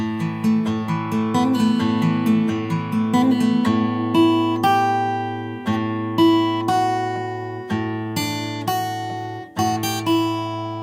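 An acoustic-toned guitar in standard tuning plays the intro riff of a song from Horizon Forbidden West, plucked notes and chords ringing steadily over a repeating bass note, clear and close.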